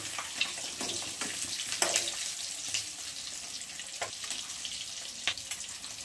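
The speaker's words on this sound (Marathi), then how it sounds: "घ्यायला बघा अशी अंडी तळून घ्यायची." Eggs fry in hot oil for egg biryani, giving a steady, fairly quiet sizzling hiss with scattered crackles and small pops throughout.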